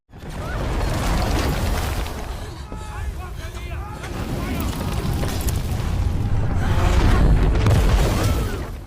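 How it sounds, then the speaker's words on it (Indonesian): Deep, rumbling booms and roaring blasts fill the scene, a loud dramatic World War II film soundtrack with two big explosions, heavy low-end and wind-like noise throughout. "tiba-tiba terjadi 2 kali ledakan besar dan membuatnya terpental jauh"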